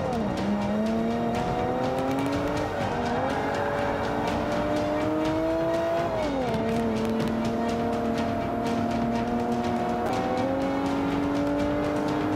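Race car in Forza Motorsport 5, engine note rising and falling through gear changes and braking over a continuous loud drone, with faint tire noise and no talking.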